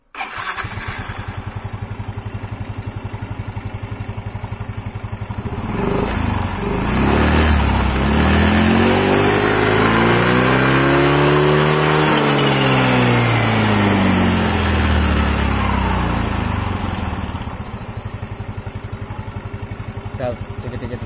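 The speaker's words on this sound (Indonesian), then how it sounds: "coba pakai starter, jangan engkol bang" An Indonesian motorcycle with a throttle fault is started on the electric starter; the engine catches and idles, then rises and falls through a long, loud rev before settling back, with people talking over it.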